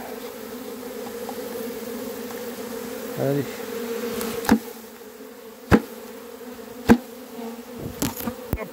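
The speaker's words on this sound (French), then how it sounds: "il y a les abeilles." Bees buzzing steadily nearby outdoors beside a hive, a continuous droning hum with a few sharp knocks and taps over it and a brief spoken word.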